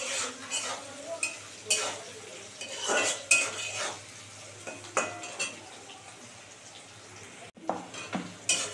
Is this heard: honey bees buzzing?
no